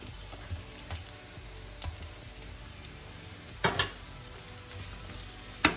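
Garlic and mushrooms fry in a pan with a steady soft sizzle, broken by a few light stirring scrapes and a sharper clink near the end, fairly quiet with no talking.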